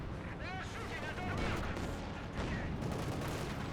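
A half-track's mounted .50 cal machine gun fires in Company of Heroes 2 as a steady rattling burst under other battle noise, with someone talking over the gunfire throughout.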